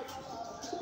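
A Giribaz pigeon gives one short, soft coo. It sounds faint and brief against a faint background.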